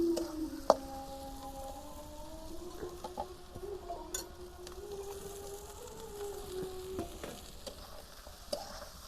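Onions, garlic and green chillies fry in oil with a soft, steady sizzle and occasional stirring scrapes. A faint sustained tonal whine runs through much of it, and small sharp clicks land now and then.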